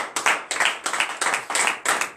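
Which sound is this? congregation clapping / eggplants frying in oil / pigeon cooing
congregation clapping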